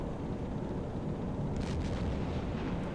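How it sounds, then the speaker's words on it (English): Distant explosions in the Silent Hunter 4 submarine game, a low continuous rumble with a few brief, muffled bursts rising midway and fading, no voices. "explosions"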